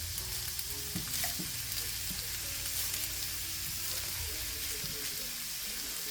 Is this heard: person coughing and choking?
no